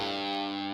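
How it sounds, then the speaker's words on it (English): A spooky guitar distortion patch from the EastWest Composer Cloud guitar and bass library plays one loud, sustained distorted chord with a buzzing, effect-laden tone, heard alone. "Next up is something called spooky guitar, and it says spooky guitar distortion."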